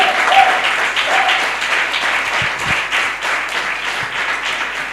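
A church congregation applauding and cheering during a Sunday service, a sustained dense wash of clapping and voices that stays loud throughout.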